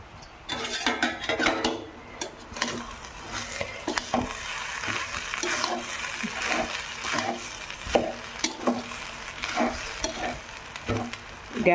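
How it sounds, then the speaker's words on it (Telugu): Carrot rice is stirred in a pan on the stove, with a spatula scraping and clinking against the metal in an uneven rhythm over a steady frying sizzle. The sound is close, and no one talks. "రైస్ వేసుకున్నాం కాబట్టి ఇంకా శుభ్రంగా కలదిప్పుకుందాం"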